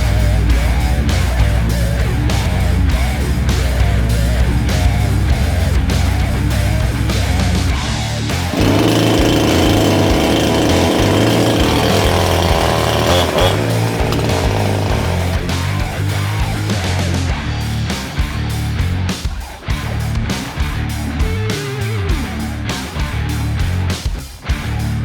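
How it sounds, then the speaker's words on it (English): A chainsaw cuts through brush to clear a path along an Impangele 4x4 trail riverbed, its motor droning steadily and close at hand, rising to a harsher buzz through the middle of the cut. "Brad's gonna hop out with the chainsaw and, you know, forge a path ahead"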